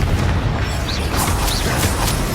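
A Confringo fire spell blasts in Hogwarts Legacy, a loud, dense boom with crackling bursts that fills the whole clip amid ongoing duel effects.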